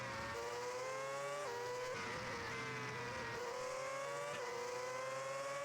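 An F1 race car in a racing video game approaches the finish line of the Abu Dhabi GP, its engine holding a steady high whine with gear shifts and rising revs, loud and continuous throughout.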